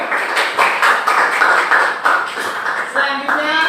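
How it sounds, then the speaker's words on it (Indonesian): A classroom of students clapping for a student group, rhythmic bursts of hand claps repeating steadily and fairly loud, with voices talking over them. "Tepuk tangannya untuk kelompok 1."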